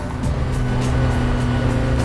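Caterham 21 sports car with a 1.8-litre Rover VVC engine roars steadily at close range, a loud continuous engine note with no voices.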